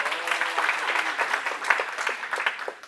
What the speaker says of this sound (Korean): 네, 박수입니다. 박수.